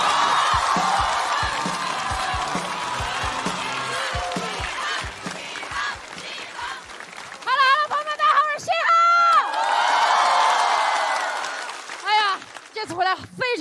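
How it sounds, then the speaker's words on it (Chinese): At a stand-up comedy show, a theatre audience breaks into sustained applause, with whoops and cheers rising over the clapping before it fades into scattered calls. "掌声有请嘻哈。"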